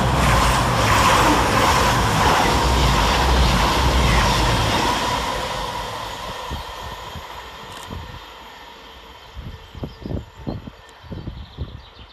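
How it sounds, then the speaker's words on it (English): CrossCountry units 220028 and 221136 pass through Outwood station on an Edinburgh to Plymouth service: a loud, close rumble that fades away over several seconds, leaving quieter scattered rail clicks. "Next around the corner for cross country is 220028 and 221136, working 1 Victor 56 from Edinburgh Waverley to Plymouth."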